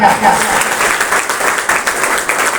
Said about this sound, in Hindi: मैं चाहूंगा एक बार हमारे और डायरेक्टर्स एंड डिप्टी डायरेक्टर्स के लिए एक बार जोरदार तालियां